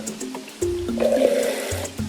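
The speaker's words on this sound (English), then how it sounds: "I might just drop a little bit of water in there" Water is poured into a pot of green tomato curry, a short close splashing and gurgling pour lasting about two seconds with no talk.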